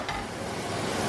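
Pancetta frying in a pan without added oil gives a brief, steady broadband sizzle, close and continuous, with no voices.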